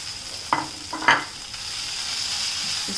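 Boiled, mashed potatoes stirred in a hot pan for a veg Frankie filling: a couple of brief spatula scrapes over a constant, close frying hiss.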